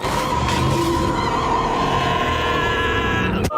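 A cartoon engine revs hard, a loud, steady, sustained roar with a skidding, squealing edge that holds for over three seconds and then cuts off abruptly near the end.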